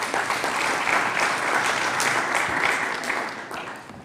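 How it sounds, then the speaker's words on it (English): Steady, fairly distant applause from a conference audience welcoming the next speaker at an event in Nairobi, even and continuous for a few seconds before fading slightly at the end. "A round of applause, please."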